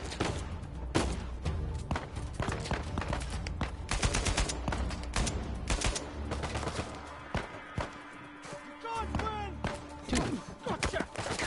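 AK-47 assault rifle fire in the video game Uncharted 4, dense repeated bursts of gunshots with crashes and thuds of combat, loud and continuous, with some voices and game sounds mixed in.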